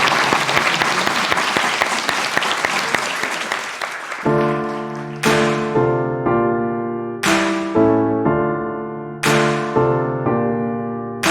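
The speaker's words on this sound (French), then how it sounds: "On peut les applaudir." Applause from an audience at a round-table talk on music and perfume, a dense burst of clapping for about four seconds that stops abruptly, followed by a series of sustained, bell-like musical tones repeating in a steady rhythm.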